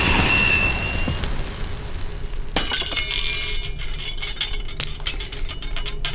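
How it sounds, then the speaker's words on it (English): A window beside a door explodes into a hail of glass shards, with a sharp crash followed by scattered tinkling and crackling debris. "the window next to the door explodes in a hail of glass and shards and bits and pieces"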